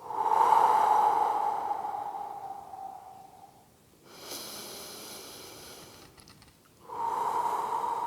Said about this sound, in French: Respiration profonde et bruyante.